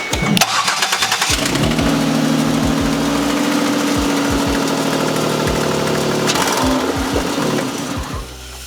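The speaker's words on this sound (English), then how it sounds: "we're gonna go ahead and start the car." A Ford Escape engine cranks and catches, then runs at a steady idle close by after an oil change, ending with a slight drop in level.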